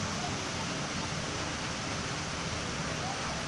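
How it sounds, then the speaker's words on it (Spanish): Steady broadband rush of a waterfall in an ecological park in Puebla, a constant roar filling the whole clip at moderate distance with no clear variation. "Pues vamos a mostrarles la cascada"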